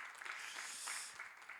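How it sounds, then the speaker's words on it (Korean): A church congregation at a high school Sunday service claps in thanks, a brief, faint but steady patter of many hands without speech. "하나님 앞에 우리 감사의 박수 올려드리겠습니다"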